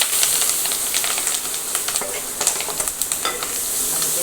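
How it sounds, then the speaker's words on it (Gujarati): Green chillies hit hot oil with popped mustard seeds and cumin, giving a steady loud sizzle and crackle with sharp spits and stirring scrapes throughout, close up and with no voices. "હવે આપણે નાખીશું મરચાં"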